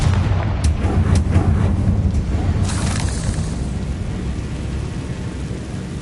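Confringo blasting spells explode in Hogwarts Legacy, loud booming blasts with sharp bursts early on, rolling into a sustained deep rumble that slowly fades.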